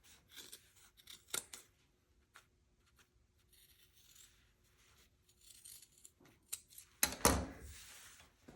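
Scissors snip through fabric seam allowance on a shirt collar during sewing, giving quiet scattered cuts and a louder cluster of snips near the end, with no talking.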